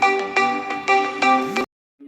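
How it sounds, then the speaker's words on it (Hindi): A mobile phone rings with an incoming call, a loud, bright melodic ringtone of repeating tonal bursts that cuts off abruptly after about a second and a half, followed by silence and a brief faint tone. "बार बार मेरी दीदी का फ़ोन आ रहा है"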